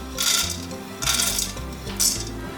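Peanuts are stir-fried in a wok, giving three bright rattling, crackling sweeps as the nuts are tossed, close and crisp, with a low background hum.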